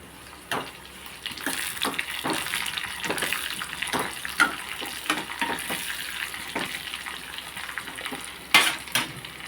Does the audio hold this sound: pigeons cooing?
no